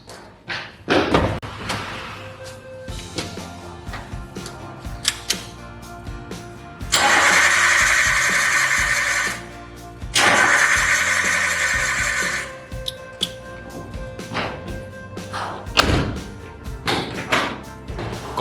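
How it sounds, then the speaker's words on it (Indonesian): A car's fuel-injected (EFI) engine, during a tune-up, is cranked in two long, loud attempts of about two and a half seconds each, separated by a short pause. It cranks but does not start, and sharper knocks and clicks come before and after. "Konfirmasi izin menstart mesin."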